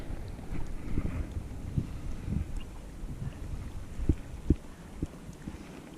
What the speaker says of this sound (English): It is starting to get really windy.